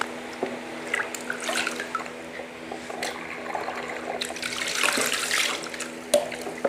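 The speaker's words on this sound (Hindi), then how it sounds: "अब ये मैंने पानी के साथ अच्छी तरह हिला दिया" A 4K action camera in a waterproof case is shaken in water, making a busy wet sloshing with dripping and splashing that swells around the middle and continues steadily throughout, with no voices.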